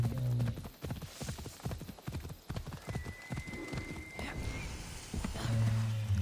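Hoofbeats of a bull mount in Assassin's Creed clip-clop steadily at a trot, loud and close, with a snort or whinny-like call near the start and again at the end, over low background game sound.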